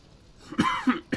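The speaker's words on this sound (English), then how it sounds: "Oh, excuse me. Damn cough." A single person coughs twice in quick succession with a short throaty catch after, close and clear, no talking.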